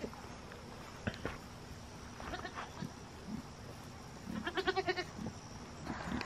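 Goats bleat a few times at a distance over a quiet outdoor background, with soft rustling and scattered footsteps.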